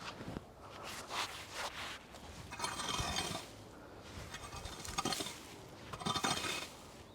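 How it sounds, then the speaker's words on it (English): A rake scrapes weeds and grass from around a newly planted citrus tree, giving repeated gritty, scratchy strokes with rustling and soft clatter, close and steady, without speech. "all I'm going to do now is just rake it all up"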